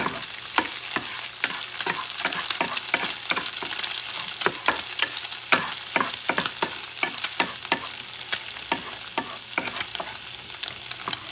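Egg and turkey breast frying together in a pan, a continuous close sizzle broken by frequent sharp clicks and taps of a utensil stirring against the pan, no voices.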